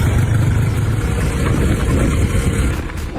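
A Kawasaki 440 engine mounted in the nose of an Airbike 103 ultralight aircraft runs steadily, giving a continuous loud, low rumble with a faint high whine over it.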